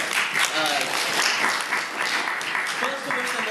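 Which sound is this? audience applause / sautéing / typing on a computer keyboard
audience applause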